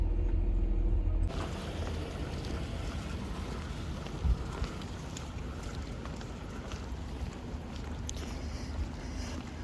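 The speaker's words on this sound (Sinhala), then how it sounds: "වහිනවා." Steady rain falls around a parking lot beside a shop, a dense, even hiss that carries on without a break and swells slightly as it starts.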